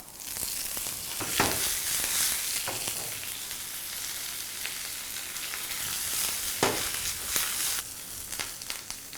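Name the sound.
spices sizzling in hot oil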